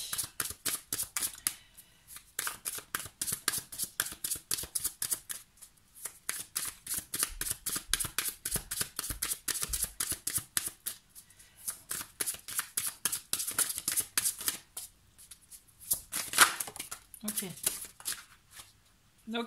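Tarot cards are shuffled by hand in long runs of rapid, crisp flicks and slaps, broken by short pauses and ending with a few louder taps, heard close and fairly quiet.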